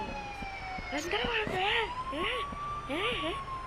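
Ambulance siren in the Bus Simulator Indonesia driving game, wailing in a repeated rising and falling pattern over a steady engine hum, with a person talking over it.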